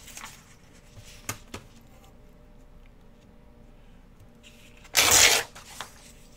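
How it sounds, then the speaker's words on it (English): Small pieces of book page paper torn by hand during a papercraft project, heard as a few soft rips followed by one louder, longer tear near the end, close and isolated in a quiet room. "I'm just going to tear a few little pieces of book page"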